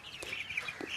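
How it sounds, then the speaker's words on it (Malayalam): Sasso breed chickens on a farm give a quick run of short, high clucks, close by and fairly quiet, over a second or so. "ഇപ്പോൾ സാസോ ഇനത്തിൽപ്പെട്ട കോഴികളെയാണ് നമ്മൾ ഇപ്പോൾ വളർത്തുന്നത്"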